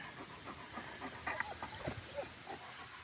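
A search and rescue dog pants close by at a creek feeding the Wabash River in Indiana, quick breathy puffs in an irregular run over faint outdoor background noise.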